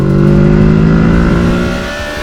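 A Kawasaki Z650 BS6 motorcycle engine accelerating, a close, loud, steady revving drone that holds through the gear and eases off slightly at the end.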